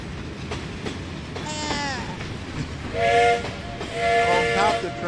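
A moving train in the video game Fishing Planet, set on a river in Russia, rumbles steadily with a loud whistle that sounds several times over a hissing roll of wheels and carriages.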